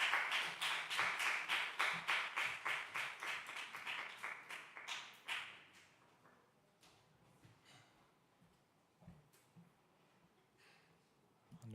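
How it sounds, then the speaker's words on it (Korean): An audience at a Korean church young adults' Sunday service claps in unison, a loud, regular rhythm of sharp claps for about five seconds, then fading into scattered, quieter claps and stray taps. "앞으로 나오실 때 박수로 맞아주세요."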